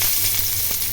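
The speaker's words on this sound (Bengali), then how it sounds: "রসুন দিয়ে দিলাম" Garlic fries in hot oil in a wok while dried red chillies sizzle alongside, giving a brief, dense and steady close sizzle with faint crackles.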